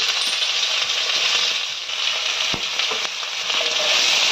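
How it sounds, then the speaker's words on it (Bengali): Chopped onions frying in hot oil, a bright continuous sizzle with occasional light scrapes and one sharp knock, close and steady throughout. "পেঁয়াজটা একটু হালকা করে আমরা ভেজে নেব"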